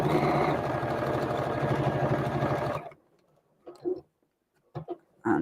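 A sewing machine stitches foundation piecing in a rapid, steady mechanical whir for about three seconds, then stops, leaving near-silence broken by a few soft handling sounds.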